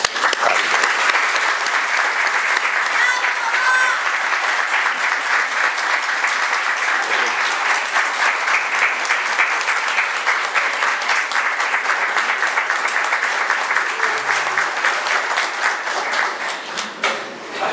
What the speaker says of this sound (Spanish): Para José, de nuevo, les pido un aplauso.